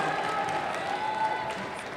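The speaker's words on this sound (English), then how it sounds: "let's give these athletes a round of applause" An audience claps steadily for the girls' basketball players at an AIA regional championship tournament, a moderately quiet, continuous wash of applause in a gym.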